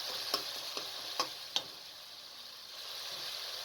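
Spices and tomatoes frying in a pan for a spiced pumpkin curry, a soft continuous sizzle with a few sharp spoon taps against the pan early on, faint and close, with no voices.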